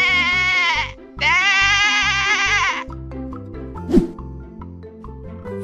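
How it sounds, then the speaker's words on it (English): Two long, wavering sheep bleats, one right after the other, loud and close over a steady musical backing. "Sheep."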